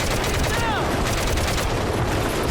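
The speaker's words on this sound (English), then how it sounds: "I'm shooting sandbags." Rapid gunfire from a first-person shooter, Medal of Honor: Heroes, fired into sandbags, a dense continuous burst of shots over a steady loud battle din with no clear pauses.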